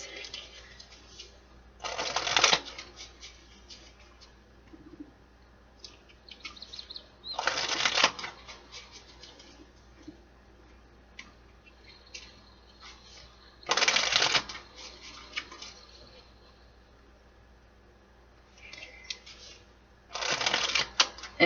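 Cards of a manifest deck being shuffled in four quick riffling bursts spaced several seconds apart, each a crisp rustling flutter up close, separated by quiet room tone.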